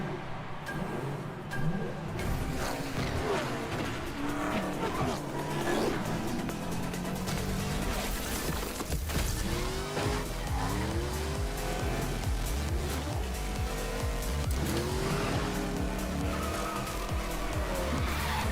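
Race cars roar and skid through the Rocket Racing game trailer, engines whining and tires squealing over a continuous, loud, busy soundtrack for the whole stretch.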